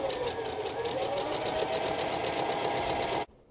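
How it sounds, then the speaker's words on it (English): Sewing machine stitching a pocket seam on a Simplicity pattern garment, a fast steady mechanical whir with rapid needle rhythm running continuously for about three seconds, then stopping abruptly. "So we're just gonna sew."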